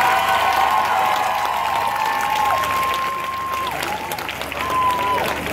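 An audience at a live comedy cabaret show in Ortelle, Italy, claps steadily with shrill whistles rising over the crowd noise.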